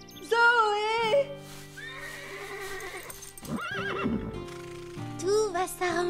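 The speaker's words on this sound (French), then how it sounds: "quand un cheval se met à hennir, c'est juste pour se faire respecter" A cartoon horse whinnies loudly with a wavering, high neigh, followed by further shorter whinnies and snorts, with a voice speaking briefly between them and faint hoof clip-clops.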